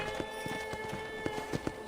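Quick, even clip-clop of horse hooves walking on a hard surface in the video game Red Dead Redemption, fairly faint over a constant electronic hum.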